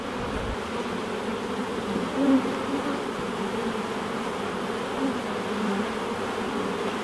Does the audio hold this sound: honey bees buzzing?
yes